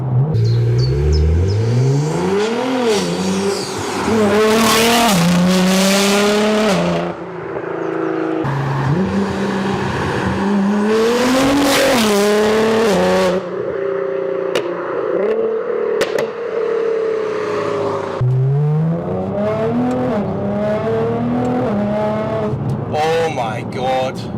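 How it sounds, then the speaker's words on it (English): A Nissan GT-R with a Frequency Intelligence (Fi) exhaust revs hard again and again, its exhaust roaring and rising in pitch, then dropping back between loud, aggressive bursts. "Frequency intelligence exhaust, you have outdone yourself. That sounds insane."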